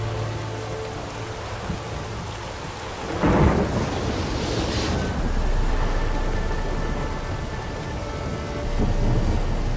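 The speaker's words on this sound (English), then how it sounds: "A storm, damn it." A thunderstorm in The Witcher 3 video game, with steady loud rain and a sharp thunder crack a few seconds in, followed by rolling rumbles under the continuous downpour.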